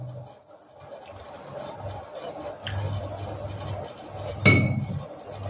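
A spoon stirs a little cornflour into water in a bowl, giving quiet scraping with a couple of sharper clinks against the bowl.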